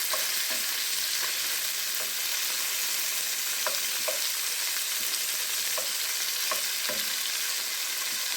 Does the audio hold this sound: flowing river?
no